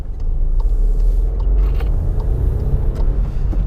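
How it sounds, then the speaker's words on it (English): A three-cylinder engine in a 2019 Seat Arona thrums steadily while driving, a loud, continuous low rumble heard from inside the cabin with no talking. "So you do get a bit of a 3-cylinder thrum."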